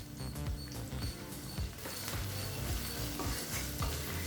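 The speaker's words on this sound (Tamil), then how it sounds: "இப்போ 1 நிமிஷம் வரைக்கும் நல்லா வதக்கிக்கலாங்க." Small shallots and chili powder sizzle while being sautéed in a pan for a pepper-garlic kuzhambu, a loud, steady close-up frying hiss broken by repeated scraping stirs of a spatula against the pan.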